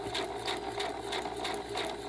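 A sewing machine runs steadily, stitching zigzag and straight stitch with a quick, even mechanical clatter about three beats a second, fairly quiet and close.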